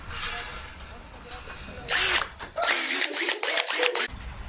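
A power drill whirs in several short bursts, loud and close, with brief pauses between, over a noisy background with some voices.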